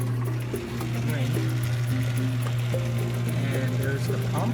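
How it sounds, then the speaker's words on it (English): The drain pump of a GE washing machine runs with a steady low hum while water drains and splashes out of the hose, heard close and loud with a voice speaking over it. "And there's the pump running and draining."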